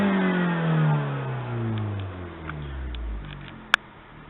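A small Abarth 500 engine winds down from a rev, its pitch falling steadily, followed by a single sharp click near the end.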